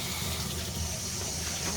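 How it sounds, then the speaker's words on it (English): Toilet cistern refilling after a flexi pipe with built-in isolation valve is fitted, a steady close rush of running water lasting throughout without pause. "the toilet's filling up"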